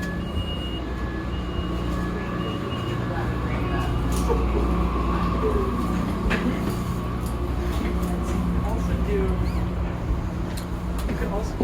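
Inside a moving light rail train, a low steady rumble and rolling hum carry on throughout, with occasional creaks and clunks. People chat intermittently over the ride noise.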